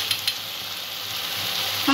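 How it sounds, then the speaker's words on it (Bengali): Onion, ginger and garlic sizzle in a pan with a steady, dense hiss and a couple of faint clicks near the start, with no talk. "পেঁয়াজ আদা রসুনটা মিনিট 2 আমি ভেজে নিয়েছি।"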